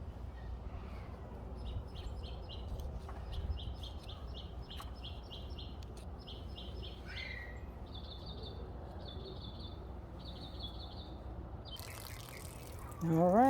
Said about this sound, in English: So listen to that bird.